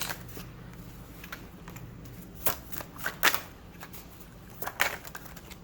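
Tarot cards are shuffled for a Celtic cross spread, giving quiet riffling and a few sharp flicking snaps as cards slap down, scattered over a soft background hum.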